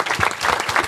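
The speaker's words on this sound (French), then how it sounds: "on peut applaudir." A brief burst of crowd applause, many hands clapping together at moderate volume.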